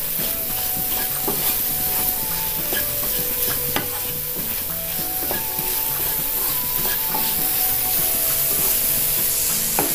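Capsicum and potato masala sizzles and fries in a pan on low flame while a spoon stirs and scrapes through it, a continuous close crackle with repeated rubbing strokes and no talk.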